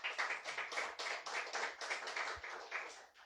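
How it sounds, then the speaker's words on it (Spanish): A Spanish-speaking church congregation claps for the Lord during a sermon, a quick, steady rhythm of many hands heard somewhat faintly and at a distance, with no voices over it. "Dele fuerte aplauso al Señor."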